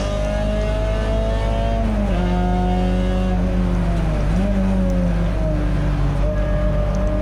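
A Peugeot 206 GTI race car engine drones loud and close from onboard during a wet race at Donington Park, its pitch dipping and climbing through gear changes and lifts, with faint talk beneath it.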